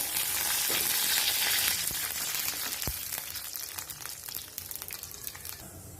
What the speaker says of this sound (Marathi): ह्याच्यामध्ये मी पाणी टाकून घेणार आहे आता